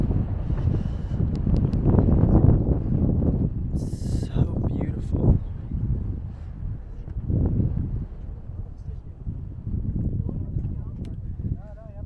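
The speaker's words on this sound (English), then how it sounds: "It's very windy out here though, I must say. Very, very windy." Strong gusting wind roars across the microphone in a constant low rumble at the Ziggurat of Ur in Iraq, with voices talking intermittently over it.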